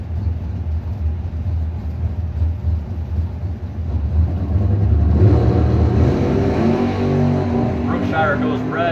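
Mopar and Chevrolet Bowtie drag race cars in a Pro Systems bracket race, with engines rumbling at the line and then a louder surge of revving, heard under continuous announcer commentary.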